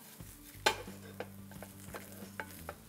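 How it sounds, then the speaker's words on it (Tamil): Grated coconut roasting in hot oil with already-popped cumin and pepper for poricha rasam, a soft continuous sizzle with a sharp scrape of stirring near the start and lighter spatula taps following. "இந்த ஸ்டேஜில் 1 கை தேங்காய் போட்டு அந்த எண்ணெய் இருக்கிற சூடுலேயே இதை நல்லா வாட்டுங்க."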